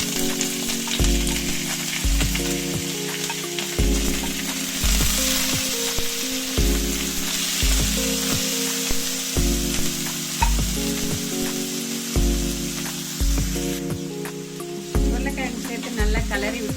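Potatoes frying in a pan with popped mustard seeds and chopped curry leaves give a steady, close sizzle with occasional stirring, while a rhythmic musical backing plays throughout.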